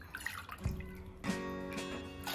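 Water poured from a container into a pot of finger millet (nachni) flour for papad batter, a splashy gurgling stream that starts partway in and runs steadily to the end, close and fairly quiet.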